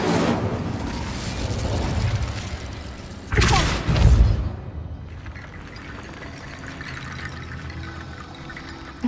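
The Incendio fire spell in Hogwarts Legacy casts with a sudden whooshing, booming burst of flame that lasts about a second, set against quieter game ambience.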